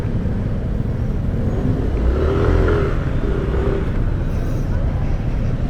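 A 2026 Yamaha Aerox V3 motor scooter riding along a city boulevard, a steady engine drone with a brief rise in revs midway, heavy wind rush throughout and someone talking over it.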